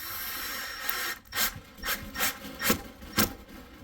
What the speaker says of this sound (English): as I screw this down, you should see how the sealant ooze out there